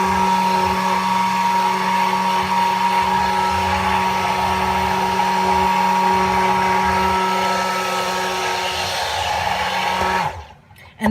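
An electric stick blender whirs through cold process soap batter made with shea butter for a face bar, a loud, steady, close-up drone that runs for about ten seconds and then cuts off abruptly.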